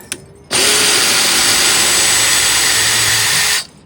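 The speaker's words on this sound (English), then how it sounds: "backing out these screws" A power drill backs screws out of an old, rotten deck board: one loud, close, continuous whine that runs for about three seconds and then cuts off, with no talk.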